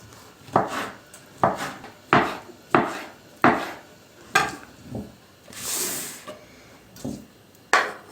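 Sharp, regular knife strokes cubing a tomato on a wooden board, about ten cuts in a steady rhythm, close and fairly loud, with a brief scraping sweep midway.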